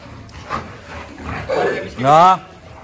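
A Rottweiler barks and whines among a group of other dogs, giving a few short vocal bursts that build to a louder, tonal cry near the end over a rough background.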